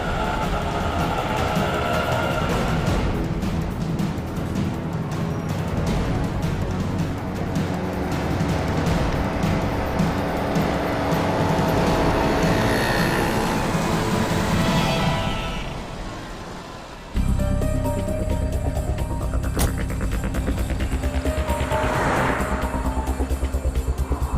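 A car drives steadily behind another vehicle, giving a continuous loud road rumble and engine drone that briefly dips, then resumes with a sharp shift in tone.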